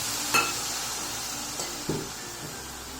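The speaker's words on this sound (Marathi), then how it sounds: "आता याच्यात मी दूध टाकून घेते." Milk poured over roasted coconut in a cooking pan for coconut burfi, a soft hiss and bubbling with a couple of spoon knocks against the pan, fairly quiet and without talk.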